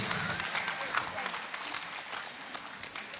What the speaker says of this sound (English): Let us give a big round of applause for the team.